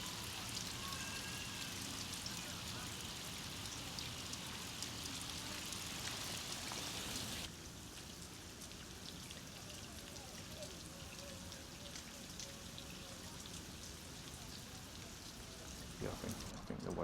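Heavy rain pours down during a storm in Scotland, a dense hiss of drops pattering on surfaces close by, steady throughout and easing slightly in loudness midway.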